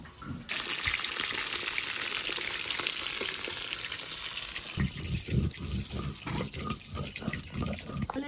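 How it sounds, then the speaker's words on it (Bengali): Fish frying in a pan, a loud steady sizzle and hiss that later breaks into bursts of crackling and spattering. "আমার মাছ ভাজা হচ্ছে"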